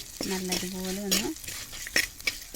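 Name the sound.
sautéing duck roast with coconut pieces in pan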